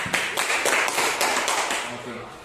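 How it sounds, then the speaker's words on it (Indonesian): A group of women at a meeting give a short burst of applause, dense overlapping claps that fade out after a couple of seconds. "tepuk tangan untuk kita semua"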